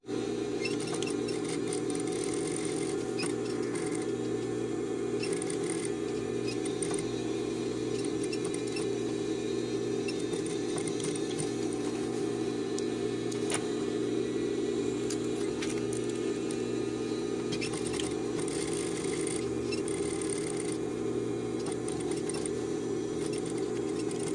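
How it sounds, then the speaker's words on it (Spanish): A sewing machine with a zipper foot stitches the fly of a pair of jeans, giving a steady, fast mechanical whir with a constant hum that runs unbroken and close for the whole stretch. "vamos a coserlo con el mismo prensatelas de cierre"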